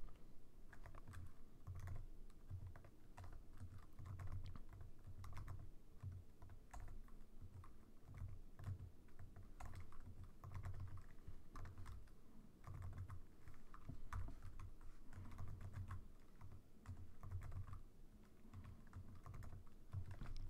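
Steady bursts of computer keyboard typing, soft and close, with clustered keystrokes and brief gaps throughout, no voices present.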